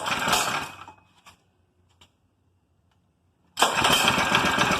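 A homemade go-kart engine roars loudly, dies into near silence for a couple of seconds with a faint click, then starts again and runs at a steady, loud, close rasp.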